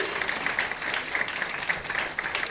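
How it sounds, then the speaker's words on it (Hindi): An audience at a Mahashivratri function claps together in a dense, steady burst of applause that fills the whole stretch at an even loudness. "एक बार अपने भाग्य के लिए ताली बजाएं सभी।"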